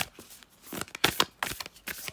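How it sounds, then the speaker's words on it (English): Tarot cards being shuffled during a full moon reading: a run of quick, crisp riffling bursts of paper flicking, close and fairly quiet, with brief pauses between them. "I might actually edit out my shuffling because it's actually making the camera go absolutely crazy"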